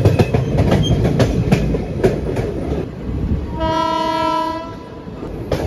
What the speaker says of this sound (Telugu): ఏదో పక్క వెళ్ళిపోయింది గూడ్స్ బండి